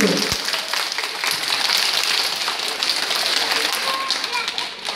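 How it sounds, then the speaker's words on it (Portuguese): Audience at a school theatre show applauds the teachers, a dense, steady wash of many hands clapping close by for several seconds. "Palmas para as profs, bem forte."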